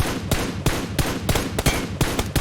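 Rifle fire in PUBG from an M416 or AKM: seven or eight sharp, loud single shots spaced irregularly over a couple of seconds, with a steady background din throughout.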